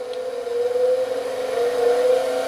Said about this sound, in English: We turn on our grinding wheel.